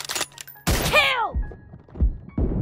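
Gunfire in the mobile shooter game Chicken Gun during a team match: a few blunt, thudding shots spaced apart, with a squawky chirp sweeping down after the first.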